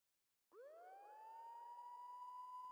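Police sirens wail in the video game Max Payne 2, a rising electronic tone that climbs in at half a second and settles into a steady loud sustained note, ending with a sudden burst.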